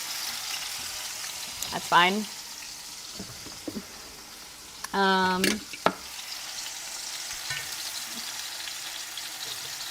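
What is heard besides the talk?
taco filling frying in oil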